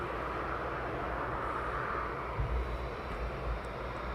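A departing aircraft at East Midlands Airport during a night launch produces a steady, distant engine roar, an even broadband rumble that holds without much change.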